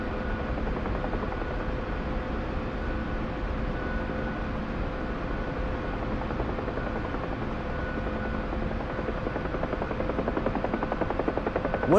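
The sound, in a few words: helicopter in DCS flight simulator video game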